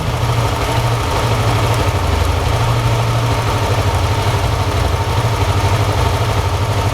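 A motorcycle engine idles steadily after its idle fuel setting has been turned down, a loud, even, low throbbing hum running unbroken throughout with no talk.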